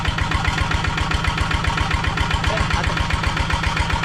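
A large engine warming up at a rice paddy being tilled, a loud, steady, close rhythmic chugging idle throughout.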